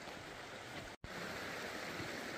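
A mountain stream rushes below a snowy valley trail in the Tatras in winter, a steady broadband flowing roar interrupted by a brief cut.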